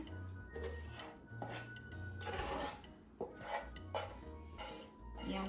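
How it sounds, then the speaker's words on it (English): A spoon scrapes and clinks against a dish while minced beef pie filling is scooped in. The taps are soft and irregular and sit under a faint musical background. "Now we're gonna put the filling inside of our pie."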